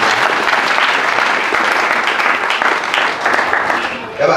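A church congregation bursts into loud, sustained applause during a pastor's farewell service, steady clapping from a full crowd filling the room from start to finish.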